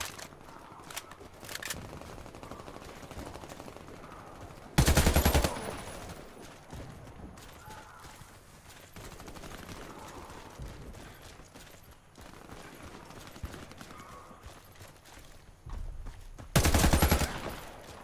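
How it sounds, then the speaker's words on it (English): AR-15 rifle fire in a first-person shooter game, with two loud sustained bursts of rapid shots and a few sharper isolated cracks over a busy game background. "I'm shooting at you."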